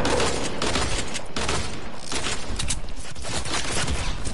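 Dense, continuous gunfire from a Fortnite match, with rapid bursts and shots layered closely over one another at steady loudness throughout, a sustained barrage with no talking.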